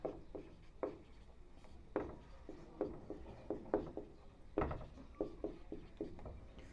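A Class 12 maths solution being written out by hand: quick, close scratching strokes and taps arrive in irregular bursts with brief pauses, and no one speaks.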